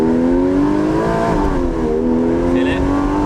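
Porsche 981 Cayman S engine accelerating, a smooth rising flat-six howl climbing steadily in pitch, loud and close from inside the cabin.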